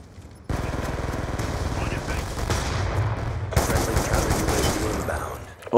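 Rapid, sustained automatic fire from an SMR rifle in Call of Duty Black Ops 2 starts abruptly and rattles on close and loud for several seconds, with a voice talking over it.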